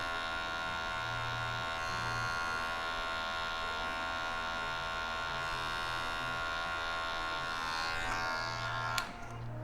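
Electric hair clippers with the lever fully closed and no guard buzz steadily throughout a self haircut, a constant close motorized hum with a faint click near the end and no speech.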